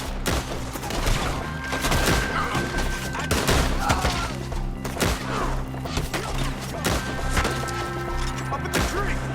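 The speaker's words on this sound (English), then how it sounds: "Shoot the ones up there first!" Rapid volleys of gunfire in a Red Dead Redemption 2 shootout, with dense overlapping shots and heavy impact thuds cracking loudly and continuously throughout, alongside sustained game music.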